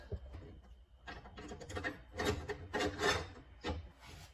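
A hand file rasps against a lawn mower blade clamped in a vise, a series of close, gritty metal strokes in an uneven rhythm, heard alone without talk.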